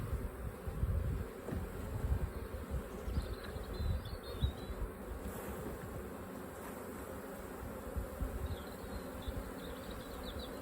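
Honey bees buzz steadily around open hives as a beekeeper splits colonies outdoors, a continuous low droning swarm sound with faint chirps of birds in the distance and no talk.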